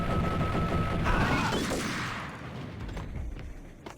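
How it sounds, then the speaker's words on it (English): Gunfire in the action video game Max Payne, a dense burst of booming shots with crashing debris that slowly fades into a rumbling tail and a few scattered later hits, loud and close. "Shotguns, still as deadly as ever."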